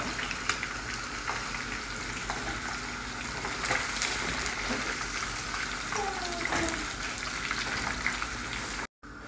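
Fish fries in a pan of hot oil, a steady close sizzle and crackle running throughout with occasional utensil taps.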